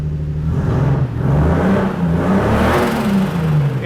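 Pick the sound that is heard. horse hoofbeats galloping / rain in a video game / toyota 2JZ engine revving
toyota 2JZ engine revving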